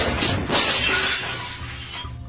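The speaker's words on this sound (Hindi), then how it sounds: "उसको बाहर सड़क पर एक कार के जोर से टकराने की आवाज आती है" A car crashes loudly into a pole on a street, a sharp burst of shattering glass that rings out briefly and then fades.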